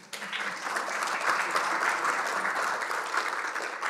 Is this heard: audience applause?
yes